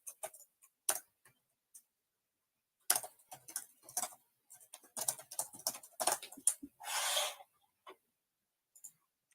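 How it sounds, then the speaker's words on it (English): Keyboard typing in scattered bursts, with isolated clicks, short clustered runs and one longer rattling stretch, close and fairly quiet, no voices. "Typing ASMR."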